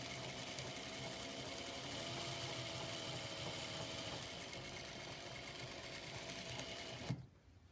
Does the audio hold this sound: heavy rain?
no